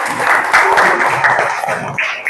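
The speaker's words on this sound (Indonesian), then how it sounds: "Tepuk tangan." A group claps hands in brief applause indoors, a dense patter of claps at moderate loudness, with faint voices mixed in.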